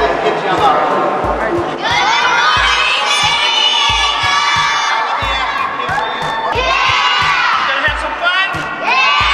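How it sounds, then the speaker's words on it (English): A crowd of children at Ripley's Believe It or Not in Balboa Park, San Diego, yells, whoops and cheers loudly in sustained bursts, with excited voices overlapping throughout. "I want to hear all the kids yell out"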